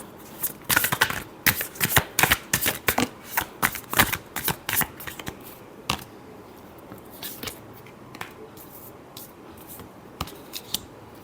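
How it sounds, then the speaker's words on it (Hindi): Tarot cards are shuffled close by in quick riffling and slapping bursts. These are dense at first and then thin out into scattered single card flicks, with no one speaking. "Last shuffle."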